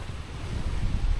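Strong wind gusting at a campsite, a steady loud low roar buffeting close to the microphone with no voices.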